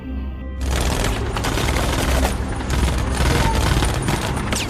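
Dense volley of rifle and machine-gun fire as German soldiers shoot into bodies on a World War II Stalingrad battlefield in a war film, loud and continuous with heavy low booms after a brief quiet start.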